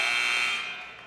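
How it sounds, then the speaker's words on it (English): A period-ending buzzer at a high school wrestling match sounds as one loud, steady electronic tone that holds for about a second, then begins to fade toward the end. "gets away at the buzzer, but no points awarded"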